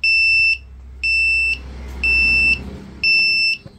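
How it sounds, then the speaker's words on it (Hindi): An Arduino earthquake alarm triggered by a piezo vibration sensor sounds a shrill electronic beep four times in an even on-off rhythm, each tone about half a second long, loud and close with a low hum beneath. "उस थोड़ा थोड़ा सा वाइब्रेशन करते ही ओके सायरन बजा,"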